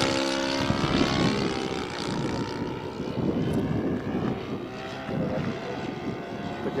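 A Bulldog 120 RC model biplane's engine held at full throttle, a continuous loud propeller drone with a steady rasping tone and slight wavering, close by with no voices over it.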